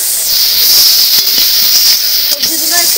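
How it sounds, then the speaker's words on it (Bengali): Mixed winter vegetables with cauliflower frying in a pan, a loud continuous hiss of hot oil that runs steadily throughout, heard up close with a brief stir or clink near the end. "সবজিগুলো একটু ভালো করে ভেজে নিচ্ছি"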